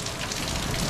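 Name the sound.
rain falling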